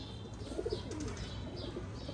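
A Ferozpuri pigeon coos softly in a low, rolling murmur close by, with faint chirps and light background noise throughout.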